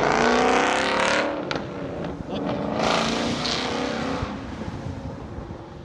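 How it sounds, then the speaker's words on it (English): A car passes through a street intersection at Smith and Colfax Street in Palatine, a loud close engine rush that peaks early and then fades gradually as it drives away. "If only that car wouldn't have talked over my voice."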